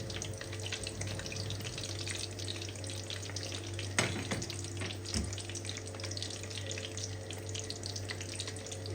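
A chicken burger patty fries in a pan with a steady, close sizzle and crackle, a couple of louder pops and clatters rising briefly above the constant hiss.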